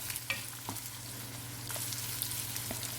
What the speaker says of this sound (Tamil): வெங்காயம் சேர்த்த பிறகு அதை நல்லா வதக்கி விட்டுக்கோங்க.